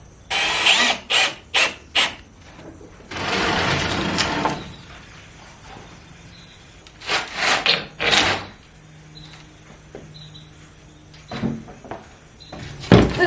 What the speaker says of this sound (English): I'm gonna screw this in